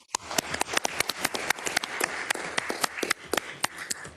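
Applause at a legislative session follows a confirmed reappointment, with dense irregular hand claps ringing out close and fairly loud for the whole stretch, no talking over it.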